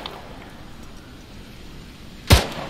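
A grenade goes off in a multiplayer military shooter game: a single sudden, loud blast bursts out near the end after a stretch of quiet background rumble, then tails off briefly.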